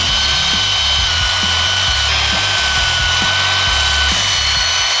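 A brass wire wheel on a power tool scours an SR20DET turbo air inlet part, giving a steady, loud abrasive grinding and rubbing with a harsh hiss and low motor hum throughout, no talking.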